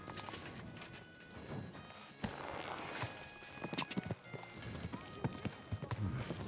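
Horse hooves clip-clop in the medieval game Kingdom Come: Deliverance II, a run of sharp steady hoofbeats growing louder over ambient game sound, with speech over them.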